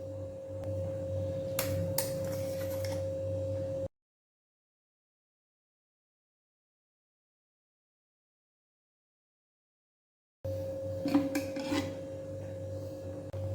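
Chutney is scraped out and transferred into a bowl with quiet, close rasping strokes and a few light clicks of utensil on dish. A steady low hum sits underneath, with a stretch of silence between two bursts.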